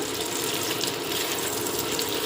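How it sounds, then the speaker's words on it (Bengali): A steady, loud rush of water pours without a break into a pan of potato curry while it cooks. "এবার জল দিয়ে দিচ্ছি"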